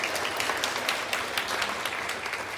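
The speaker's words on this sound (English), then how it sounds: "big round of applause." A classroom audience applauding, dense steady clapping from many hands close by for a few seconds, with no one speaking over it.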